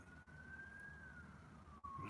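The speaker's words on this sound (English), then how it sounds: "there's a siren." A siren wails in a steady, slowly gliding tone, moderately distant, over a low rumble of traffic, with two brief dropouts.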